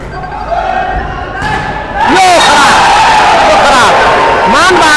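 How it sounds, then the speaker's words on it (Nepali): Spectators at a men's national volleyball semifinal between Army and APF Club, a loud surging crowd roar with hooting, whoops and thumps, rising sharply after a quieter start, a commentator's voice heard beneath. "दर्शकहरूको हुटिङ विभागीय टिमका लागि आफ्नो टिमको लागि चेयर अप गर्दै।"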